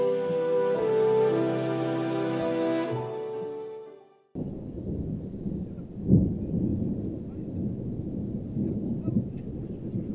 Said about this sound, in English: with that thunder and rain, it was a precursor to Murphy's Law